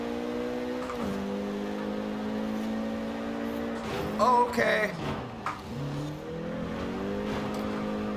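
A Renault Megane R26.R engine drives through Edinburgh streets in Forza Horizon 4, a steady droning hum that briefly surges and shifts pitch mid-run before settling back, with a voice speaking once.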